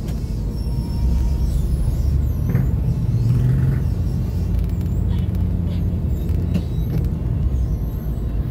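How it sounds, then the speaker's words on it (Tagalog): Road traffic with cars and buses on a highway in Quezon, a continuous low engine rumble close by with a passing vehicle and a faint hiss like an air brake. "Medyo traffic lang."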